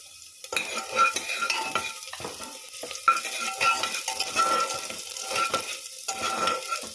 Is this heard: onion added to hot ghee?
yes